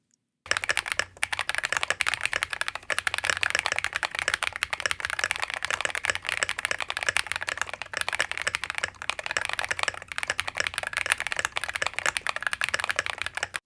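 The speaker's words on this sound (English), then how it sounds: "The KiiBOOM Phantom 81 V2 is not a silent keyboard" Steady, rapid clacking of keys on a KiiBOOM Phantom 81 V2 mechanical keyboard, close and fairly loud, continuing without pause with no talking.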